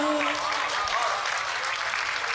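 Audience applause at a Hindi poetry recital marking Mahavir Jayanti, a steady dense clatter of clapping throughout, with a faint voice trailing in the opening moment.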